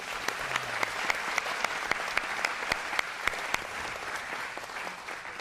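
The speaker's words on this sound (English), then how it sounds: "So let's give Mr. Cleveland Beach a round of applause one more time." Audience applause at a corporate wellness meditation event, a steady wash of many hands clapping with a few sharper claps standing out, sustained at moderate level with no talking.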